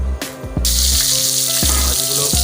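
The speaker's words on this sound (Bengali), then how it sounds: "মাছগুলোকে তেলে দেওয়া হলো, তেলে দিয়ে এখন একটু ভেজে নেওয়া হবে।" Fish sizzling loudly in hot mustard oil in a wok, a dense steady hiss and crackle that swells after the pieces go in, with brief knocks from utensils against the pan.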